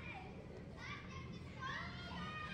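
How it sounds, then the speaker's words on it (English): Children scream and shout in a horror video game, a faint, distant jumble of high young voices and cries that continues throughout, with a low hum underneath. "I can hear kids screaming in here"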